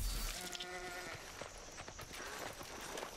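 Goat creatures bleat in the video game Dauntless, several harmonic calls overlapping early on against busy game ambience and scattered thuds of combat.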